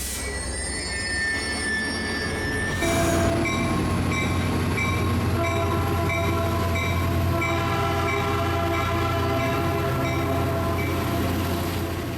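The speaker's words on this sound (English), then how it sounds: "This is Caltrain number 114, a local service to San Jose. This train is operated using the classic gallery cars with the F40PH leading." A Caltrain local made up of classic gallery cars behind an F40PH locomotive passes close by, wheels squealing in high sustained tones, with a steady rolling rumble and a horn-like tonal blast about three seconds in.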